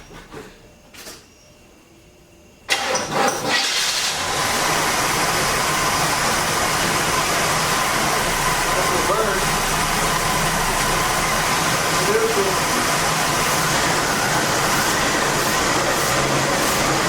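A 1973 Chevy Nova engine cranks after a few quiet clicks, catches abruptly and settles into a steady, loud, even idle that runs on without pause.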